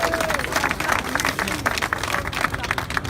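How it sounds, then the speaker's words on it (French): Loud crowd applause and clapping at a street demonstration honoring women, dense and sustained for a few seconds with cheering voices and crowd chatter mixed in. "Applaudissez pour ces femmes, pour ces Amazones,"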